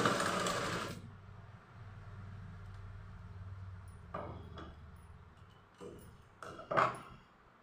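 A sewing machine doing outline stitching on fabric whirs loudly for about a second. Quiet room tone and a few light clicks and knocks from handling the cloth follow.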